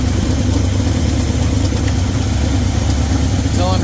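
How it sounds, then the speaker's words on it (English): A 1972 Chevy C20 engine with a misfire idles close and loud in a continuous, slightly uneven rumble throughout. "Makes me think we might have a misfire on cylinder 4 also."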